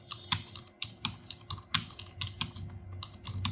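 Hindi being typed on a computer keyboard, steady moderate clicking keystrokes in an uneven rhythm, close and fairly quiet, with no talking.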